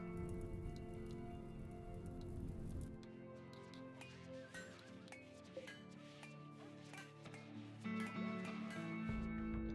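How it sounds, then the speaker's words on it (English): Rain falls in RimWorld, a steady wash of dense patter that persists under layered game music and effects, moderately loud throughout with no break. "Yeah, it's raining. So the rain is going to put out the rest of the fire."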